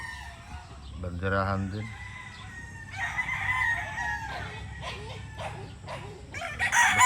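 A roundhead gamecock of the Boston Millionaire line crows once in a clear, strong, stepped call near the start, with faint clucks and other fowl calls around it and someone talking over the sounds.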